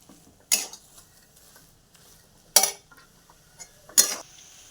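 A kebab mixture is stirred in a pan, giving three separate sharp scraping clanks of a utensil against the metal, evenly spaced, with quiet gaps between them.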